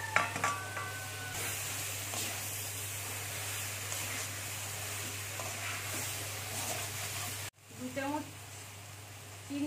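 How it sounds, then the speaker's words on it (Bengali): Lightly pre-fried taro stolons (kochur loti) go into a pan for a Bengali kosha dish, giving a steady close sizzle with stirring scrapes over a low hum, briefly cut off near the end before the frying resumes. "হালকা ভেজে রেখেছিলাম লতিগুলো দিয়ে দিলাম"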